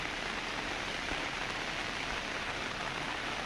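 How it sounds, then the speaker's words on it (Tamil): Steady, dense rain pours at a hilltop elephant viewpoint, a constant close hiss of drops on surfaces with no pauses and no voices. "இப்போ மழை நல்லா பெய்யுது"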